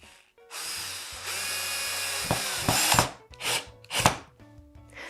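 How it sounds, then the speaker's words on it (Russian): A power screwdriver drives 16 mm self-tapping screws into fibreboard, with a long steady whir followed by several short bursts of the motor as the screw is snugged down, close and fairly loud. "Крепить друг к другу основания я буду саморезами 16 миллиметров"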